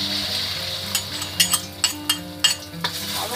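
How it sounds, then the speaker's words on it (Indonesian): Tofu mixture stirred in hot oil in a wok sizzles with a steady hiss, broken by sharp scraping and clinking strokes of a spatula in a close kitchen, with a low hum in the background. "Sesudah minyak mulai panas, kita tuangkan campurannya ini."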